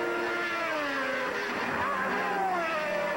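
A 1980 Formula 1 car at Watkins Glen howls through a tight right-left chicane, its engine note dropping under braking and then climbing again as it accelerates away, loud and close, with no talk over it.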